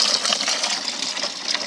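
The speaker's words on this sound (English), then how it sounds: "What I have here is a method pump that I'm using just for test." Water from a small test pump splashing and trickling through the pipes of a home aquaponics setup, a steady bright rushing with small irregular splashes.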